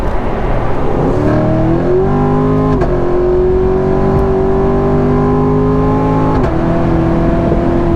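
A Corvette sports car engine drones loudly and continuously, its pitch climbing through gear shifts with brief dips, heard from inside the car.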